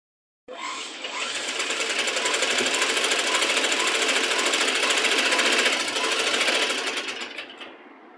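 A sewing machine stitches invisible piping along a fabric edge, a loud, fast, steady mechanical whir that starts abruptly, runs for about seven seconds and then stops, with no talking.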